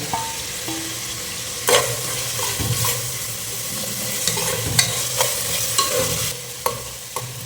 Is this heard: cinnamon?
yes